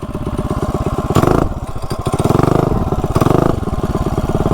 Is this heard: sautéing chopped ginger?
no